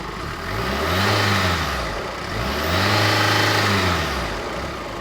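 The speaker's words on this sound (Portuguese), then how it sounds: "Eu vou acelerar" A car engine revs up twice in smooth rising and falling sweeps, loud and close with no talk, during an electronic fuel injection check of the mass airflow sensor.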